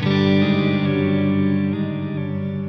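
A Strymon NightSky reverb pedal sustains a dense, shimmering wash of modulated, pitch-shifted reverb over a held chord, loud and continuous with slowly shifting tones and no voices.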